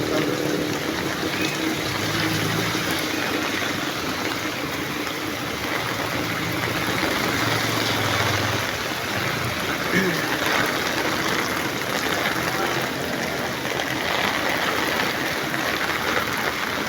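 Heavy rain with wind pours steadily in a dense, unbroken roar throughout, with a low engine-like rumble underneath and a voice speaking at times over it.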